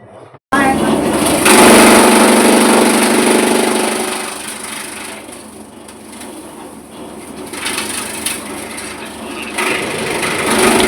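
A motorised fodder-cutting machine chops green fodder with a loud, close, steady whirring drone and scraping chatter that swells and fades slightly, while a voice talks over it.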